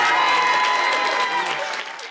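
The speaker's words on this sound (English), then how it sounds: "Give them a round of applause as well." An audience at an Irish festival queen pageant breaks into applause, a dense burst of clapping that gradually fades away over about two seconds.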